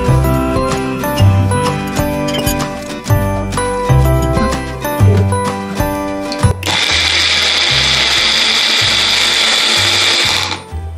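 A Magic Bullet blender whirs loudly and steadily for about four seconds while blending a berry mix smoothie, then cuts off. Before it starts, a stretch of tinkling music plays.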